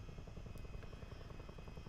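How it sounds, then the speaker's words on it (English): A CH-47D Chinook twin-rotor helicopter in Microsoft Flight Simulator over Krakow gives a steady, loud, dense rotor thump and engine drone, filling the whole moment without pause or talk. "This is like my second helicopter which I ever flown in MSFS."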